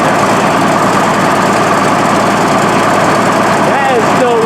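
Case 1150 diesel engine with two broken injectors running loud and close as a continuous, steady rumble, smoothing out while people talk over it.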